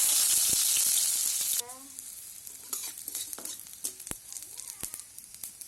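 Oil crackling loudly in a pan for cabbage curry, a bright sizzle that suddenly drops away, followed by softer frying with scattered clicks and scrapes of stirring, and a voice briefly audible.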